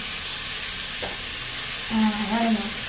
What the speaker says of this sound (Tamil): இஞ்சி உள்ளியெல்லாம் போட்டு வதக்கி அந்த இஞ்சி பழம் போட்டு அடுத்த வந்து தக்காளி பழம் போட போகிறோம்.